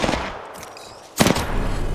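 Gunfire in the Apex Legends video game: a few scattered shots, then a loud, sharp burst of rapid fire that continues as a close, dense volley to the end.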